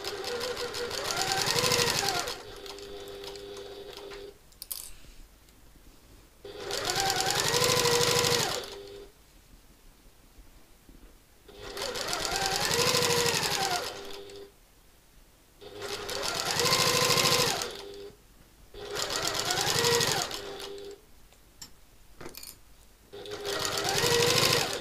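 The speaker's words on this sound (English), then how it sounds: "start with your needle down and just sew at an 1/8 of an inch away" A sewing machine stitches through satchel layers in about five or six bursts of rapid mechanical whirring, each a few seconds long, separated by short quiet pauses; the machine sounds close and clear.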